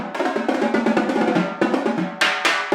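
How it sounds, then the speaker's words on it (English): Rapid, crisp strokes on marching tenor drums ring out in quick bursts and rolls, loud and close, with brief pauses between phrases. "These are marching tenor drums."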